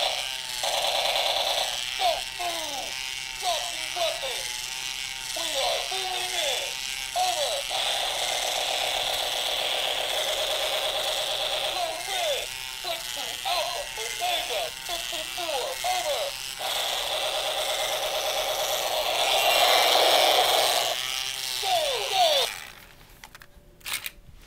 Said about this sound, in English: This one's motor burnt up, but I put a new motor in it, but it's slow.